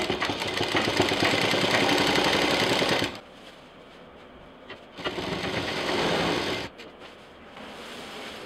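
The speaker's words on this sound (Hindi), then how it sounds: "अब यहाँ से हमें लाइनिंग, प्रिंटेड कपड़ा और ये साइड वॉल एक साथ सिलना है।" A sewing machine stitches a backpack's lining, printed fabric and side wall together in fast rattling bursts: a three-second run, a pause, then two shorter runs, close and moderately loud with quiet handling sounds between.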